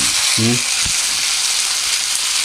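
Chicken tandoori sizzles steadily on a grill pan oiled with a tablespoon of cooking oil, a loud, continuous hiss with a brief voiced murmur and a soft thump early on.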